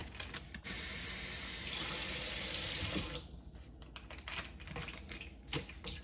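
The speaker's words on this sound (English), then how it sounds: "I will put 1 whole bag of water in here" Water gushes and splashes into a container for a few seconds, then stops, followed by faint clinks and handling noises.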